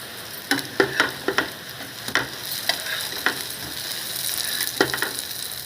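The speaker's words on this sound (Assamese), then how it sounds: "মই এনেকৈ ভাজিছোঁ" Food fries in refined oil in a pan, with a constant close sizzle broken by sharp scraping and stirring clicks, and no talking.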